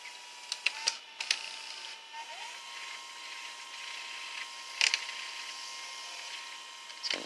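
An Emerson VCS955A VCR with a new belt rewinds a tape, giving a thin steady mechanical whine with scattered clicks and clunks of the transport, fairly close and quiet.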